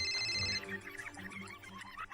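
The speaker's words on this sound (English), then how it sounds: "Suddenly the phone rang." A telephone rings with a bright electronic trill for about half a second before the tone breaks up into a busy musical underscore.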